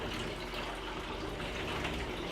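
Used C41 colour developer draining from a film tank into a bottle, a steady close gush of liquid with no pauses.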